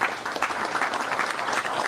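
An audience claps steadily and densely throughout a political speech, a continuous wash of many hands with no pauses.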